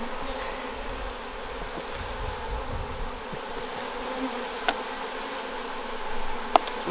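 Honey bees buzz in a close, continuous drone while being gathered from a hive, a steady insect hum with a couple of faint clicks and knocks, no voices.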